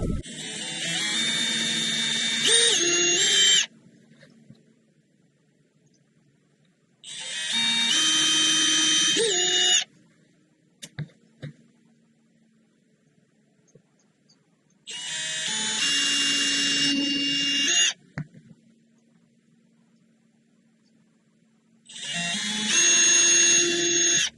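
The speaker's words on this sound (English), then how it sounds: "I'm gonna go ahead and drill these, and I'll use those as pilot holes" A power drill whirs in four separate bursts of a few seconds each, drilling pilot holes for a sliding boat helm hatch, with quiet pauses and small clicks between them.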